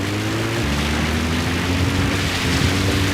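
A support helicopter arrives in the video game Metal Gear Solid V: The Phantom Pain, a steady, droning engine and rotor hum that holds at a constant level throughout.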